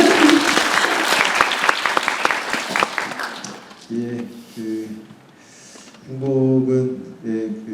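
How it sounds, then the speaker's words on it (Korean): Audience applause at a Korean film screening talk, a burst of dense clapping for about four seconds that drops away, followed by speaking voices over a quieter room. "두 분의 대답에도 박수 좀 쳐주세요"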